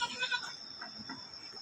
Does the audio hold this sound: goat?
yes